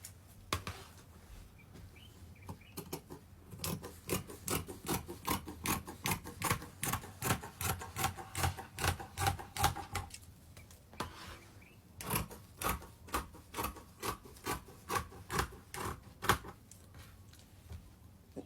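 Scissors cutting fabric for a circle skirt, a steady run of crisp, rhythmic snips close by that pauses briefly midway and then resumes, with no talking.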